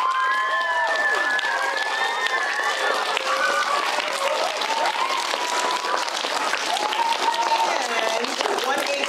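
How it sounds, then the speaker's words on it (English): Dense, loud audience applause for first grade performers at a school show, steady and sustained throughout, with children's voices and cheers mixed into the crowd. "Can we give them a big round of applause?"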